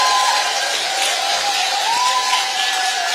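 A Daegu audience at a book concert applauds in a steady, dense wash of clapping from a large crowd in an indoor hall, with a faint tone humming underneath and no clear voices over it.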